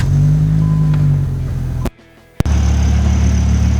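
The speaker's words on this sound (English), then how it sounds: "I always like to start these cars because they sound so different than every other car." A 1997 Dodge Viper GTS V10 revs loudly and close, a deep sustained rumble that cuts out abruptly for about half a second before snapping back in.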